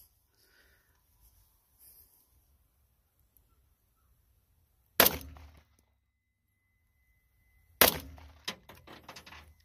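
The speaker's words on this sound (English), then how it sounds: "now let's see if this 45 can do what it was meant to do." Two sharp, loud .45 ACP pistol shots at a zombie in a Walking Dead video game, a few seconds apart, each with a short ringing tail in an otherwise near-silent scene.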